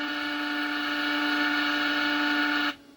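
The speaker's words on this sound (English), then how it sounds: "Turret rotation." Turret of a 1/16 scale RC British Grant tank with a 3D printed upper hull traverses, producing a steady, close electric motor whine that holds evenly for under three seconds and then cuts off abruptly.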